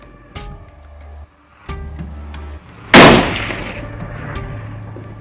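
Gunshots during sniper shooting training crack out as a few isolated reports amid ambient noise. One much louder, sharper blast lands near the middle and rings out into a decaying tail.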